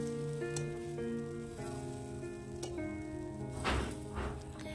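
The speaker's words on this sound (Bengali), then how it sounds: "এগুলো হালকা করে খুন্তি দিয়ে আস্তে আস্তে উল্টে পাল্টে ভেজে নিতে হবে" Pointed gourd slices fry gently in a pan with a soft sizzle, while a spatula occasionally taps and scrapes as the pieces are turned, faint and close, over a steady background hum.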